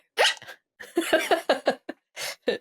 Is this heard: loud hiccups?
yes